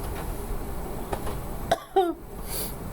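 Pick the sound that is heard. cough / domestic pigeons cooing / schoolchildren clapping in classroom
cough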